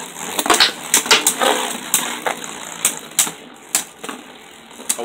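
Beyblade Burst Turbo spinning tops clash inside a plastic stadium after a flat launch, giving sharp irregular clacks and hits over a continuous high whir, close and loud.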